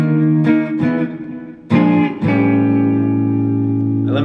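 A blues ending on electric guitar moves from the five chord down to the four, with a few quick picked chord stabs before a final chord rings out and sustains, warm and slightly effected.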